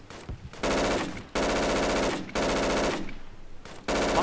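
Automatic gunfire in the video game Project Reality, a desert map: four loud sustained bursts of rapid shots, each about a second long, separated by short gaps.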